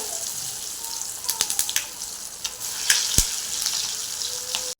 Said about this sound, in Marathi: तर आपण तळून घेऊया आता पहा तुम्ही डीप फ्राय नाही तर चालो फ्राय करून घेऊ शकता